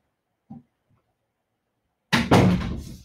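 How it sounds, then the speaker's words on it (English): A door being closed indoors: a faint small knock first, then a loud close thump and latch rattle with a short ringing decay, close by in an otherwise quiet room. "And can you close the door?"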